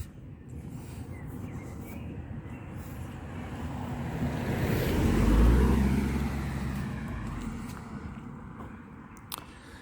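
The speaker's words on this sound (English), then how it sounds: "Oh, it's a tractor. You see it through there? There's a tractor. Can you hear it?" Tractor engine on a quiet country road during a long walk, a low rumbling drone that grows from distant to closer, peaks midway, then fades away again.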